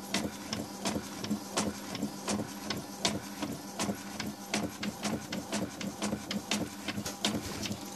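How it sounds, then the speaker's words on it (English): A small, cheap label printer prints a shipping label, a steady run of rapid mechanical pulses and clicks with a buzzing feed motor, close and continuous with no talking. "it's already printing the label out."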